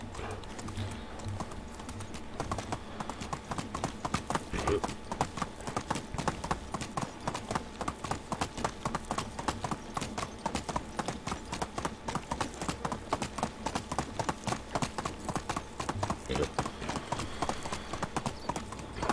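Horse hooves clip-clop in a steady, brisk rhythm during riding in the video game Medieval Dynasty, a long run of evenly spaced, fairly close footfalls with no talking.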